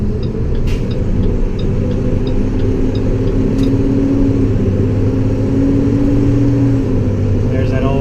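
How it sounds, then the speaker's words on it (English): Cummins engine fan in an International Durastar truck roars loudly and steadily from inside the cab while driving, a constant low engine drone with a whining tone wavering over it. "There's that old Cummins fan, engine fan, screaming away."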